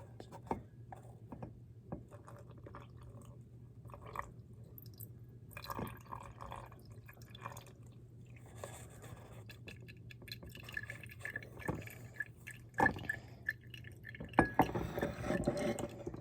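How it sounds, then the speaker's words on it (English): Iodine clock solution dripping through a paper coffee filter during a chemistry lab prep: soft, scattered drips and faint glassy ticks over a steady low electrical hum, quiet and close. "I'm going to filter it out through a coffee filter to get all that excess coating and extra stuff that's not needed"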